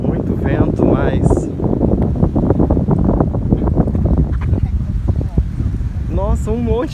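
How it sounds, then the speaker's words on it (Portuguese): Strong wind buffets the microphone at a beach, a steady roaring rush that runs the whole time under ongoing close conversation. "Muito vento, mas..."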